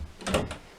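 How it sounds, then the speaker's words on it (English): A metal door handle is pressed down with a short mechanical click and latch clunk, close and brief, with no talking. "So generally the door handle will go downwards like this."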